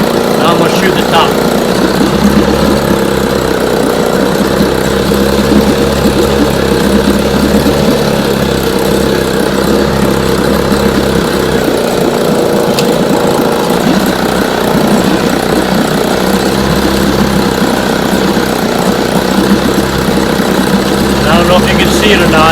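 An outboard motor with a misfiring cylinder runs steadily and loudly throughout, a continuous close engine drone under faint background noise.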